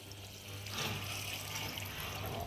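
Water pours into a pot of partly cooked chicken and rice for Rayalaseema-style biryani, a soft steady splashing flow that swells slightly after a moment and stays faint and even.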